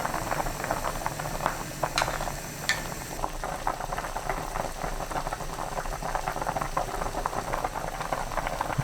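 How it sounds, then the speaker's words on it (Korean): Beef and taro soup with green onion bubbles at a rolling boil over high heat, a steady close crackle of popping bubbles and a couple of sharp clicks early on. "파 넣고 끓입니다."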